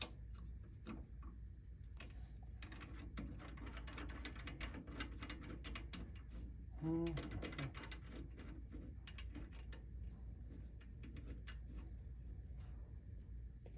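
Ratchet wrench clicking in quick repeated bursts while a big brake kit is bolted onto a Nissan 240SX (S13 Silvia) during a wheel and coilover install, close and steady over a low background hum.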